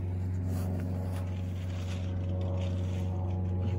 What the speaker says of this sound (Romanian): Trece și avionul.